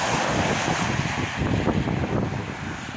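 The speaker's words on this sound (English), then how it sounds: "It's windy." Strong wind buffets the microphone in a steady, loud rush with gusty swells, and no voices are heard.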